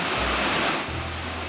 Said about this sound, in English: Klaus introduces us to a little-known waterfall and natural pool on the Rio Portalón